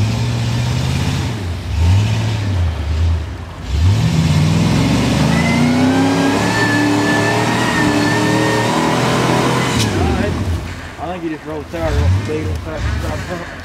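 A car's engine revs hard and repeatedly while stuck in a rut, with strained rising and falling pitch, as excited people shout nearby over it.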